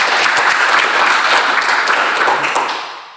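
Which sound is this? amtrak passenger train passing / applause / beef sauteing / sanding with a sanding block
applause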